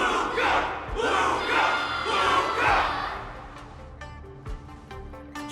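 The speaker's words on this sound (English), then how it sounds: "Can't you hear? Everyone's cheering for you" A large crowd roars and chants in rising, rhythmic waves of cheering, loud and massed, then tapers off with a few scattered thumps.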